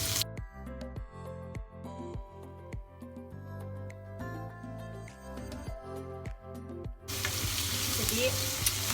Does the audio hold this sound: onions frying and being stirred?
yes